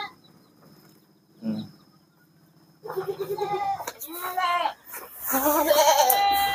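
Goats bleat repeatedly on a small goat farm, starting with a faint call and then a run of loud, close, quavering bleats from several animals one after another.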